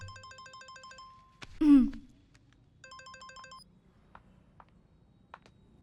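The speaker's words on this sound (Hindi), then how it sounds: "फोन।" A phone rings with a repeating electronic melody in two short bursts, separated by a sudden loud swoosh, followed by a few faint clicks in a quiet room.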